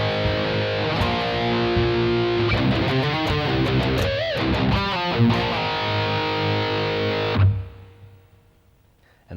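Heavily distorted electric guitar plays a fast, dense riff, loud and continuous before cutting off sharply near the end into a faint ringing tail.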